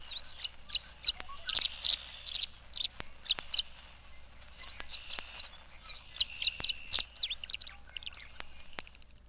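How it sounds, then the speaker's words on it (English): Tree swallows twitter around birdhouses at dusk, a lively stream of short, liquid chirps and warbles coming in quick irregular bursts, fairly close and continuous throughout. "the tree swallows are twittering about the birdhouses"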